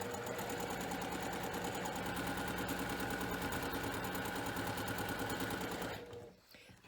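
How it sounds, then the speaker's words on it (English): A Juki straight-stitch sewing machine runs steadily, stitching a sash onto a quilt with a fast, even mechanical chatter that holds loud and close for about six seconds before stopping abruptly. "The machine I'm sewing on is my Juki. It only does a straight stitch"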